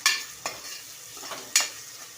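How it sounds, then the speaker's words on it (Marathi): Finely chopped onion sautéing in a pan while being stirred: a soft sizzle underneath several sharp, distinct scrapes of a spoon against the pan, close and unhurried, with no talking. "यामध्ये एक मध्यम कांदा बारीक चिरून घालायचा आहे आणि लालसर होईपर्यंत परतून घ्या"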